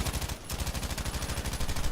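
An MG34 machine gun fires in Battlefield V as one continuous, rapid automatic stream of loud, evenly spaced shots, with a brief dip near the start, no voices.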